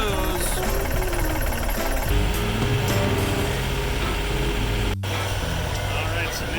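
Sailboat engine running steadily while revved up to 2,500 RPM, a loud, dense mechanical drone with a constant low rumble and a brief dropout near the end.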